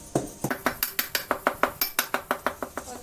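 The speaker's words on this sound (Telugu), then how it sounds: "ఇది బాగా వేయించుకోవాలి ఇలాంటి నెయ్యిలో గోధుమ పిండి" Wheat flour roasting in ghee in a pan, stirred with a utensil that strikes the metal in a steady rhythm of about a dozen sharp, close clinks, with no voices.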